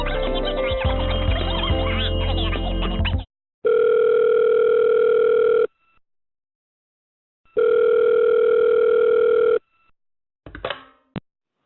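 A phone call being placed: a burst of music cuts off, then two long steady ringing tones with a gap between, followed by a brief crackle as the line connects.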